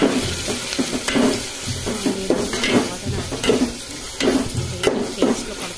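Ginger, garlic, cinnamon and clove paste with coriander powder frying in a pan, a steady close sizzle broken by repeated stirring scrapes and clinks at an irregular rhythm, with no talk over it.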